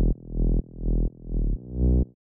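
Layered sub bass synth with overdrive and sidechain compression plays four deep sustained notes, each swelling in volume and then cutting off abruptly, loud and alone.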